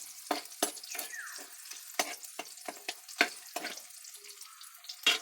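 Tap water runs in a kitchen while squid adobo (adobong pusit) cooks, heard as a steady close wash with short splashy bursts and faint sizzling, with no talk over it.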